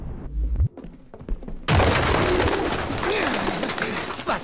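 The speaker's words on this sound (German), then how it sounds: "Tauben. Jede Menge Tauben." Pigeons coo in the video game Detroit: Become Human, their soft wavering calls rising over a dense ambient wash after an abrupt cut, following a brief muffled thump and quieter background sounds.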